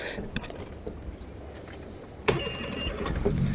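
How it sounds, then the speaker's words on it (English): Small boat engine starting, a brief cranking click and catch followed by the motor settling into a low steady idle near the listener. "going to start the engine"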